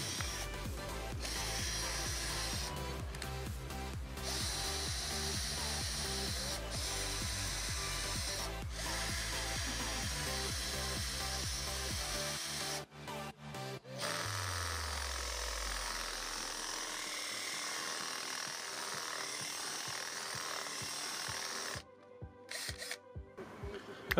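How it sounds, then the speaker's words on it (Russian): Power drill boring a hole with a screw extractor bit into a stuck bolt or wall anchor, a steady loud whir running for about twelve seconds before winding down, then restarting in short bursts near the end. "Потом, когда высверлим отверстие, в нашем случае, если получится высверлить"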